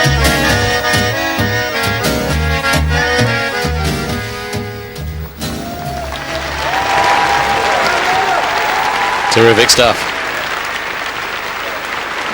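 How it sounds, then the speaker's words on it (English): Music gives way to a large arena crowd at a 2004 dance World Championship final in Lithuania's Siemens Arena applauding and cheering loudly, with a commentator's voice briefly over the noise. "you can hear the audience at the Siemens Arena really enjoyed that"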